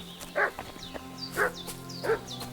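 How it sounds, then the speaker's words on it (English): A dog barks down in the valley in the video game Kingdom Come Deliverance 2, three separate woofs spaced out at moderate distance over a quiet forest ambience with birdsong. "You can hear a dog barking down there."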